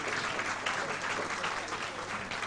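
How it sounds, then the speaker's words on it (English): Steady applause from an audience at a charity fund launch event, continuous mid-distance clapping from a sizeable crowd, fairly quiet overall and heard without other sounds on top. "A big round of applause, please."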